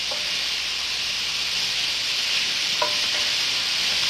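Shrimp fry in a pan with a steady, loud sizzle from start to finish, broken by a few faint scrapes and taps as they are turned over.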